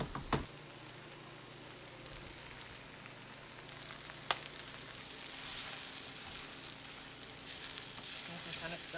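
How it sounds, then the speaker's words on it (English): Rice frying in a wok, a steady dense sizzle running throughout with a few sharp scraping clicks as grains catch and stick to the bottom; close and continuous, no talk. "You can kind of still hear that rice kind of stick into the bottom of the wok"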